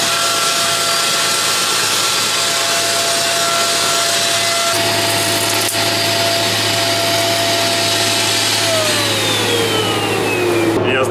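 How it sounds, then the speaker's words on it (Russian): A vacuum cleaner aboard a yacht on Lake Ladoga runs loud and steady the whole time, its pitch shifting partway through, with a faint whine sliding downward near the end. "Что у нас есть пылесос на лодке."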